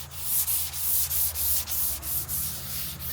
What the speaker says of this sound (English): I'm just going to take a little bit of 400 grit.